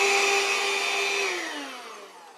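A vacuum cleaner runs loud and close as it sucks coffee grounds out of a Breville Barista Express grinder, a steady high whine that then drops in pitch and fades as the motor winds down.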